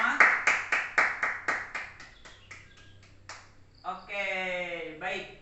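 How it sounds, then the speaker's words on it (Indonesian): A few people in a classroom clap after a group presentation, a small set of sharp, evenly spaced claps that fade away, followed by a voice talking. "Tepuk tangan untuk kita semua."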